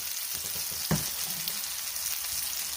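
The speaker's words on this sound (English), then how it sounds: "We're going to go ahead and get our scallops in here right now." Scallops searing in olive oil in a hot pan give a steady, close sizzle and frying crackle throughout, with one brief sharp clink near the start and no talking.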